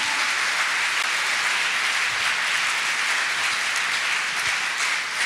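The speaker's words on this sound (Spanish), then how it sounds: "Denle un aplauso a Él" A church congregation applauds, dense steady clapping filling the room for several seconds at an even loud level, no voices on top.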